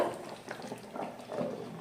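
Wheat rava upma with coriander leaves simmers in a pan, bubbling softly with gentle, low plops and a quiet, steady burble.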